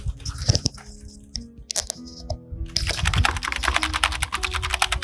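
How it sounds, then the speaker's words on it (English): Rapid, dense typing on a mechanical keyboard, loud and close, with crisp clacking keystrokes that start in scattered taps and build into a fast continuous run, with no talking. "a brief sound of my other mechanical keyboard"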